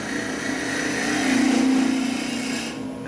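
A 1/2 inch gouge cutting a wooden goblet on a lathe, a close, continuous rasping scrape with a humming tone that swells in the middle and fades at the end.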